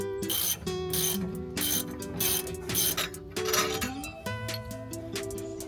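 A ratchet wrench works the lower control arm nut on a Mk1 Audi TT 225, making rapid, close clicking bursts in quick repeated strokes with short pauses between them, and no talking.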